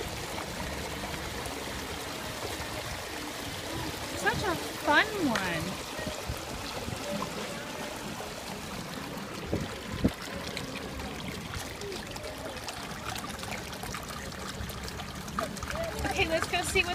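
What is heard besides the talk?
running water at a dragon sculpture fountain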